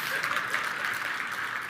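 A conference audience clapping, a dense continuous wash of applause filling the room at steady level for the whole short stretch.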